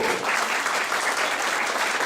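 Applause at a public hearing on community kitchens fighting hunger, greeting a state deputy as he steps forward; steady, dense clapping from a crowd fills the whole stretch, loud and close with no pauses.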